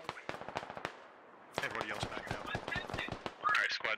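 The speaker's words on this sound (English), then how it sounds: "Barry Boots gets shot in the back." Gunfire in the military shooter Squad crackles in dense bursts, sparse single shots at first, then rapid overlapping fire that grows louder and busier near the end.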